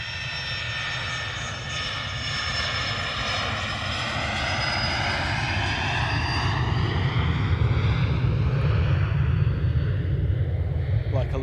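An airliner takes off from Manchester Airport, its engine roar swelling steadily louder with a sweeping, shifting tone as it powers up and climbs away nearby.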